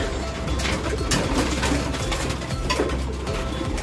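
Domestic pigeons coo in a loft, with low cooing calls running under a steady, fairly loud background of bustle and rustling throughout.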